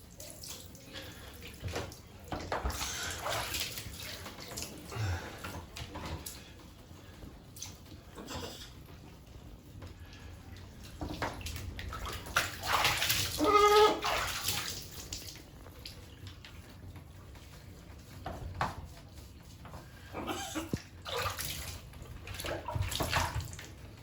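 Water from a tap running into a bath being filled for a parrot, a soft, continuous splashing flow that swells and eases, with a few sharp bird calls and occasional light clatter.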